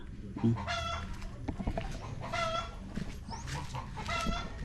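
Chickens clucking in an outdoor yard, repeated close, loud clucks in rhythmic bursts over a steady background of other fowl, with no one speaking.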